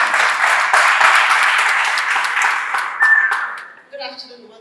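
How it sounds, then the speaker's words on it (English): An audience applauds during a panel session, a dense, sustained burst of clapping for about four seconds that fades as a voice begins speaking. "Please give her a round of applause."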